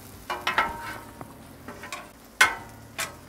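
Tater tots frying in oil on a Blackstone griddle, a low steady sizzle broken by a few sharp scraping and clacking hits from a spatula as they are pushed aside.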